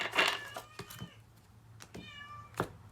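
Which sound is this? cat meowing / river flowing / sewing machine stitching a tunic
cat meowing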